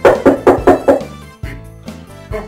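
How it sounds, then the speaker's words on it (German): A mobile phone ringtone made of knocking sounds plays close and loud: a quick run of five hollow knocks, then a pause and a few more knocks, with no talk. "hat einer von Ihnen irgendwie ein Handy mit Klopfgeräuschen?"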